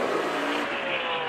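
A NASCAR race car loses control off turn 4 and hits the wall, heard as a loud, sustained roar of engine and tire noise with a rushing, skidding quality lasting about a second and a half.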